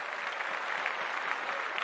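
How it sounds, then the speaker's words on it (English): An audience at a live awards evening applauds its sponsors with steady, even clapping that holds at a moderate level throughout, with no single claps standing out. "Let's take just a moment to give a virtual round of applause for"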